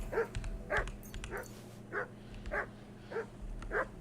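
Dog barking in the medieval game Kingdom Come: Deliverance 2, a series of about seven short yips and barks at even intervals, moderately near over a low background hum.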